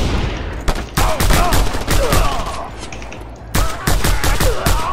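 Gunfire in the game Just Cause 2: loud, rapid bursts of automatic shots close by, arriving in clustered volleys with short pauses between them.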